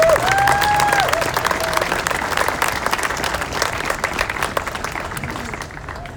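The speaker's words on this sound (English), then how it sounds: "another round of applause for Governor Herrera." An outdoor crowd at an Indigenous Peoples Day gathering in Santa Fe gives sustained applause, dense clapping with some cheering that gradually fades, while a faint brief whistle-like tone sounds near the start.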